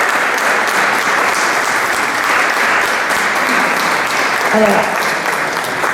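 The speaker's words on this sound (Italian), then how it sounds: "Un applauso, per favore." Steady applause from an audience at an award ceremony as an honorary certificate goes to the Giuseppe Conte music school, the clapping holding evenly before a voice starts talking near the end.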